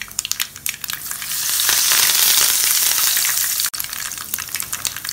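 A tempering of seasoning splutters hard in hot oil as curry leaves go in, a close, loud burst of dense crackling that swells into a fierce hiss, then settles back into rapid popping.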